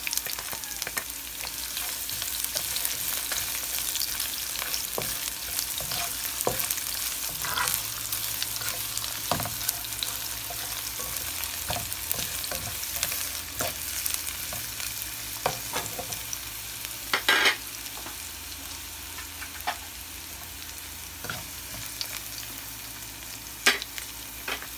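Garlic and onion sauté in a hot pan for chicken and pork adobo, giving a steady, close sizzle with intermittent stirring scrapes and clicks and a soft tonal hum underneath.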